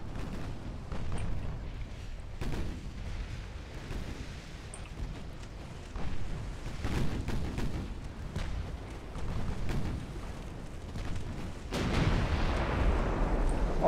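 Battleship guns and explosions in a naval video game, a continuous rumbling barrage of heavy booms and blasts with repeated sharp cannon reports over a dense low roar, loud throughout.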